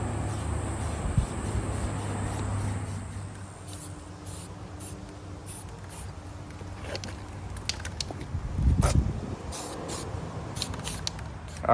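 A second coat of paint is sprayed onto a car, a steady close hiss with brief pulsing bursts and a few clicks over the top.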